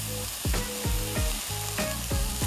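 Onions frying in a pan for a beef cheeseburger, a steady sizzle broken by several sharp scraping stirs at regular intervals, close and moderately loud with no voices.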